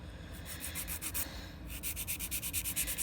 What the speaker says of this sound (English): now I'm going to come in with my 80 grit file